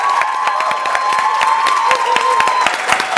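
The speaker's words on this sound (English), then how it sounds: "Big round of applause for Lisa." An audience at a dance convention's live Q&A forum claps steadily, dense sustained applause with scattered sharp individual claps throughout, loud and close.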